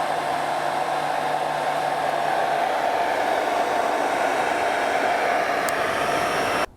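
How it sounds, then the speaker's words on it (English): A hair dryer blows steadily at close range to dry water out of a car headlight on a BMW E61 LCI, a constant loud whooshing hum that shuts off abruptly at the end. "in the meantime I have been drying this thing out with a hairdryer"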